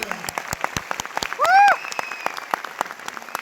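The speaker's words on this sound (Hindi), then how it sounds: "एक बार अपने लिए तालियां बजा लो। बजाओ ताली।" A crowd at a direct-selling event claps for itself in scattered, uneven beats, with a loud sweeping tone briefly cutting through near the middle and faint chatter underneath.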